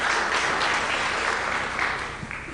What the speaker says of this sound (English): Big round of applause to Bwana Samuel.